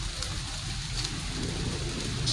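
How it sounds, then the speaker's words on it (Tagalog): Summer monsoon rain falls in a steady, soft hiss of drops that stays even throughout, quiet and continuous, with no voices over it. "Ayan, ang tubig ulan na yan."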